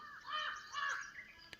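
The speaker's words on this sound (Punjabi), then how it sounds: "ਬਹੁਤ ਸੋਹਣੇ ਪੰਛੀ ਬੋਲ ਰਹੇ ਚੈਕ ਚਕਾ ਰਹੇ ਬਹੁਤ ਸੋਹਣੀਆਂ ਮਿੱਠੀਆਂ ਮਿੱਠੀਆਂ ਆਵਾਜ਼ਾਂ" Several birds calling among mango trees in shady open country with a light breeze, sounding as fairly close, lively overlapping chirps and caws in two bursts, with no talking.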